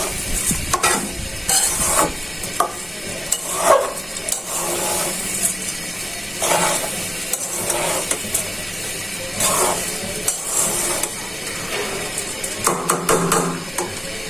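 Rice for bhuna khichuri fries on low heat in a pan, with a continuous sizzle and repeated scraping and clanking of a spoon stirring against the pot, fairly close and without talk.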